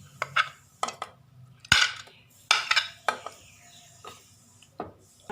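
Pieces of fish are dropped and scraped into a metal cooking dish, a series of clattering knocks and scrapes of utensil against the vessel at irregular intervals, close and fairly loud in a quiet kitchen.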